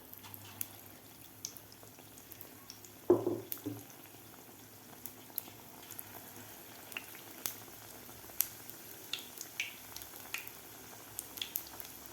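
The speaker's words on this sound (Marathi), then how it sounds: "तर मस्त हे कुरकुरीत होईपर्यंत आपल्याला हे तळून घ्यायचे आहेत बटाट्याचे काप" Potato slices deep-fry in oil in a wok, sizzling and crackling steadily, with a brief louder splash early on and small pops scattered throughout.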